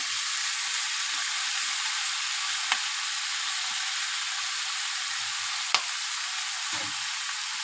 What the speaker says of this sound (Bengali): এবার আমি পুঁই শাক আর আলুটা দিয়ে দেবো